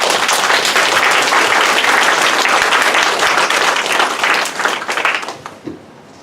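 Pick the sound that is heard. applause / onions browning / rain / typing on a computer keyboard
applause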